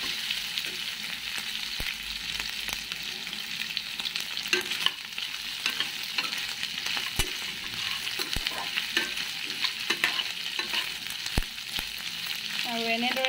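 Pork fries in a pan with dry chili paste as rendered fat bubbles out, giving a constant crackling sizzle. Scattered clicks of stirring sound over it, with no voices.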